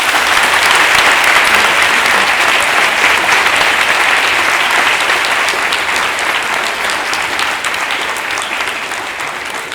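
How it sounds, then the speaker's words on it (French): Audience at an eloquence event bursts into loud, sustained applause, a dense even wash of clapping that fades only slightly over about ten seconds, with no talk over it. "je vous demande un tonnerre d'applaudissements pour Madame Béatrice Adjane."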